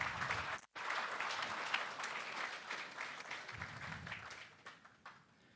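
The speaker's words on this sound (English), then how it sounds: "I think the Honourable Minister deserves another round of applause." Sustained applause from an audience at the official closing ceremony of a regional sustainable energy week, honouring a government minister; dense, steady clapping fills the hall, breaking off for an instant near the start, then fading toward the end.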